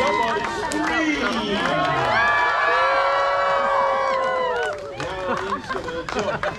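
A large audience at a Polynesian Cultural Center show screams and cheers in a loud, sustained roar, with high whoops and children's shouts layered over it, then settling into scattered chatter and clapping.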